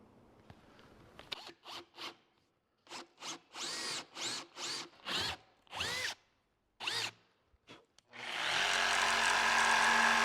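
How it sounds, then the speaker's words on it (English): A power drill bores half-inch holes into a built-in cabinet in a series of short, loud bursts with the motor revving up and down, followed by a longer sustained whir at the end. "I'm standing on top of something here, so I can drill my holes"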